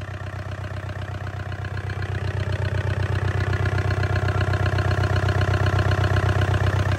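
A Yanmar 4TNV88 diesel engine runs smoothly at a steady idle, its close, even low rumble and rapid regular clatter holding constant throughout with no other sounds.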